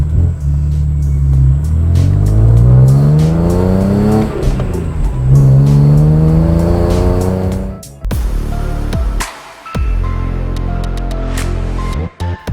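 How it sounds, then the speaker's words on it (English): BMW E46 M3 with a Supersprint race exhaust revs hard and loud, its engine note climbing and falling through several sweeping runs close by, then a sharp blip and a steadier burbling idle toward the end. "we got the Supersprint race exhaust installed. This thing sounds amazing."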